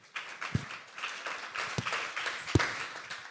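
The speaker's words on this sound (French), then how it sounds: "On peut les applaudir" Conference attendees at a deeptech startup event in Rennes applaud the panel speakers with faint, scattered clapping and a few sharper individual claps, under a low murmur of the room.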